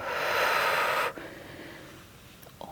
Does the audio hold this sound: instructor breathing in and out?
yes